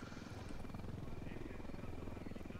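A helicopter escorting a convoy in the tactical shooter Ghost Recon Wildlands, a continuous low rotor thrum with fast rhythmic chopping, fairly faint and steady.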